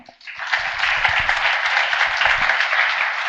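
An audience gives loud, sustained applause after an event host asks for it, dense clapping rising quickly and holding steady throughout.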